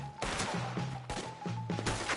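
Gunfire in Red Dead Redemption 2 during a wagon shootout: repeated loud shots crack in quick succession and keep going in dense volleys, with no break between them.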